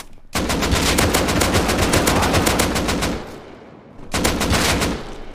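An AK rifle fires in a video game in two long, loud, rapid bursts, separated by a brief pause, close and without talking.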